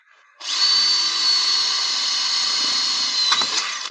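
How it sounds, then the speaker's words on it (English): A power drill boring a hole for a blind rivet, a loud steady high-pitched whine starting abruptly and running continuously for a few seconds, with a brief rough catch near the end. "I'm going to drill my angle here, i.e. drill my hole"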